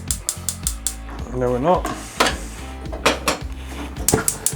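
A gas stove burner is lit in a home kitchen with a rapid series of sharp igniter clicks, mixed with metallic clanks of a pan and a brief spoken phrase nearby.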